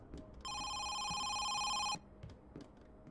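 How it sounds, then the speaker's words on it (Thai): A telephone rings in the horror game Home Sweet Home, one long electronic ring that starts abruptly, holds loud and steady for about a second and a half, then cuts off, with faint game ambience around it. "โทรศัพท์มา"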